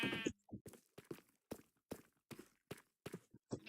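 Sheep in Minecraft bleat over and over in short, evenly spaced calls, several overlapping bursts at close range and moderate volume with no talking.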